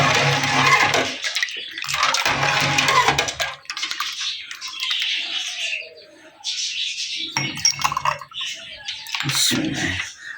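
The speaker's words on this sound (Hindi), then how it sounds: "अब शरबत डालेंगे गिलास में।" Rooh Afza sharbat is poured into a glass in several close, splashy liquid bursts separated by short pauses, with faint chirps in the background.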